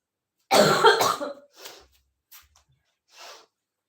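A burst of harsh coughing up close, followed by a few shorter, quieter coughs trailing off with pauses between them.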